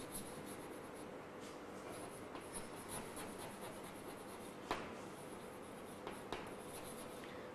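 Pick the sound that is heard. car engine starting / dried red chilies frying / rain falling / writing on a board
writing on a board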